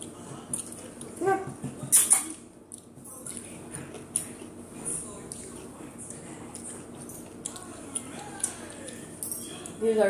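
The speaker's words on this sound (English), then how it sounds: "He's our dog." A dog whimpers and yips in short, uneven bursts close by, mixed with people talking in the room.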